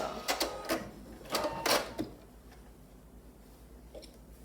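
A sewing machine back stitching on a flannel blanket, a few quick bursts of mechanical clatter and ticking in the first two seconds, then a quiet hum with faint clicks.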